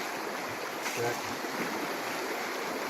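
Water flowing steadily along a creek during a field test of a mining screen, a broad continuous rush close to the microphone, with a brief word spoken over it.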